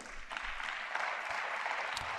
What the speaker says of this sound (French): Applaudissements de la part de certains députés européens face suite à ces propos d'Emmanuel Macron contre la Russie